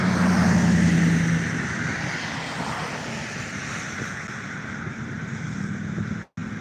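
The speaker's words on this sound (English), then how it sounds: "Get all the traffic with it too" Road traffic passes outside a manor in Pennsylvania at night as a steady broad engine and tire rush with a deeper hum early on, continuous and moderately loud, cut by a brief dropout near the end.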